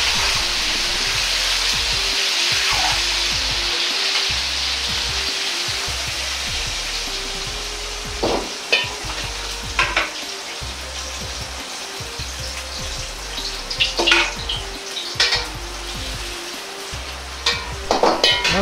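Mixed vegetables, tomatoes excepted, deep-frying in hot oil for summer-vegetable sweet and sour pork, giving a steady loud bubbling sizzle with occasional sharper crackles and clinks throughout.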